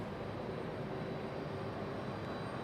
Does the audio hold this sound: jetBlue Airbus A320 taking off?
yes